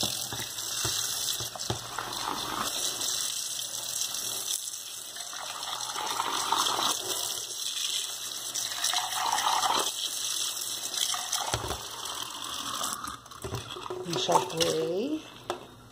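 Running tap water gushes steadily as aluminium and stainless steel cookware is rinsed under the faucet, with scraping and clinking of the pan in the stream and someone talking over it in Portuguese.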